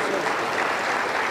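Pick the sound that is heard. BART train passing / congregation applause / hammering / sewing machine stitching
congregation applause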